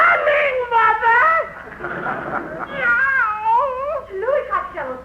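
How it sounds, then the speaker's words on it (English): A cat being squeezed meows and caterwauls in long, wavering, rising and falling yowls, close and loud, in several bursts with short gaps. "Louis Costello, stop choking that cat"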